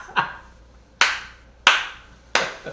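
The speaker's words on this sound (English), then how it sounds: "3 claps." Three sharp hand claps, evenly spaced about two-thirds of a second apart after a faint first tap, loud and close in a quiet room with no talking.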